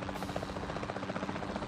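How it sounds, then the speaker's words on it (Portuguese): Helicopter engine in the Jurassic World video game, a steady, dense rotor and turbine drone with a rapid pulsing beat, loud and continuous with no talk over it. "o barulho do motor do helicóptero vai acabar assustando eles"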